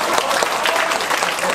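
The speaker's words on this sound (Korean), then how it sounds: "박수 한번 쳐주시죠." A seated audience at a hanbok fashion show and model contest opening ceremony in Ssangcheong Hanok Village claps loudly and densely, a continuous close burst of applause with no gaps.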